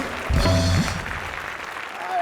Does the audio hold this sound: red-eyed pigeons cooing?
no